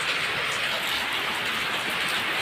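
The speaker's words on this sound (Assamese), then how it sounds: "অলপমান আগত ইমান ৰ'দ আৰু এতিয়া ইমান বৰষুণ।" Heavy rain pours down steadily in a dense, unbroken hiss, loud and close, with no voices over it.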